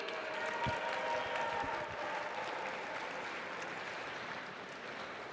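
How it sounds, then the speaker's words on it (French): Audience applause at an indoor robotics competition ceremony, the Rapid React challenge presented by Boeing, a steady broadband wash of many hands clapping across a large room that stays fairly even throughout and fades slightly toward the end. "Oui, on peut applaudir."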